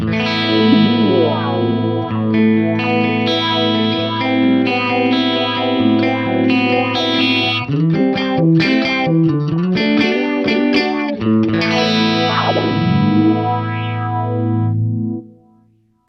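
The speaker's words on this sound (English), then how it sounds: "I can morph between them and get a kind of faux like filtery flanger phaser thing" Guitar played through a Line 6 DL4 delay pedal, its delay time lowered and morphed into a filtery flanger-phaser sweep, sustains repeating notes with swirling, shifting tone for about fifteen seconds before cutting off.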